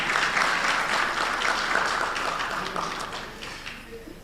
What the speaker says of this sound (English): Please welcome him with a round of applause as he comes on stage.